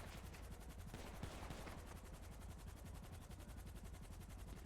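Sustained rapid gunfire rattles without pause in a GTA roleplay game, dense automatic bursts that keep up a constant loud clatter throughout.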